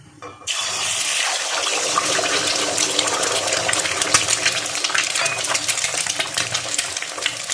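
Beaten egg hits hot oil in a wok for a quick Bengali egg bhujia, setting off a loud, steady broadband sizzle that begins abruptly after half a second and crackles on without pause, with no voices over it.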